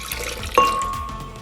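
Water is poured into a blender jar holding ginger pieces, a soft liquid splash and trickle with a brief glassy ring, close and quiet.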